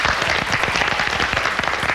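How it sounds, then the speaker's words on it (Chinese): Steady, dense applause from a television studio audience at a health talk show, with many hands clapping in a continuous even wash at fairly close range and no speech on top. "掌声来"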